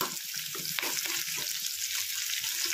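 Onions frying in a pan for an eggplant curry in North Karnataka style, a steady close sizzle with soft stirring scrapes throughout, no talking.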